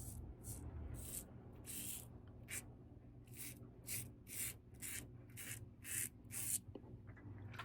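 Stroke after stroke of a safety razor scraping through lathered stubble during a wet shave, about a dozen crisp, close, brushy swipes in a fairly steady rhythm over a faint low background hum.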